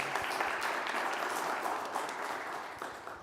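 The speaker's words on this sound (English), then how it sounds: "Please, again, a round of applause" A conference audience at a city well-being forum applauding in a hall, a sustained dense wash of clapping that fades slightly toward the end.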